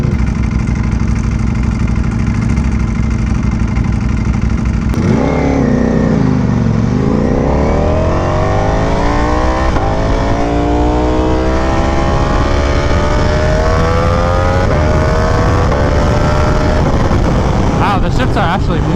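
A 2022 Ducati Panigale V4S ridden in race mode, its engine droning steadily, then dipping and climbing through a series of rising revs and shifts, loud and close with wind and a voice talking over it.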